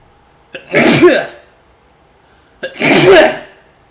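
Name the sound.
sneezes, in pairs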